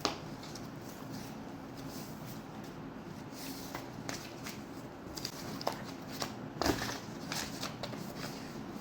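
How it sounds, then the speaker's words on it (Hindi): A deck of cards being shuffled, a soft, close riffling and flicking that runs steadily with a few sharper snaps, faint and alone. "लेट्स एक बार शफल कर लेते हैं"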